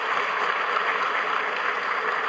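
A loud, steady roar of applause fills the hall as the president of Bolivia arrives at a signing event between the Ministry of Economy and the Central Bank.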